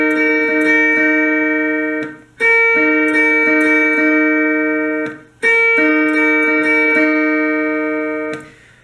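Clean electric guitar picks a lead riff, sustained single notes rising and falling in three phrases with brief gaps, played alone and clearly up close.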